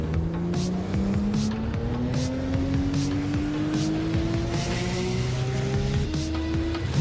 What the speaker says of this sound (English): Pace car now pulls away